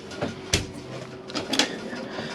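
Loose metal oven shelf and grill pan rattling inside the oven of a Chausson Titanium Premium 630 motorhome, a few sharp clattering knocks in quick bursts at close range.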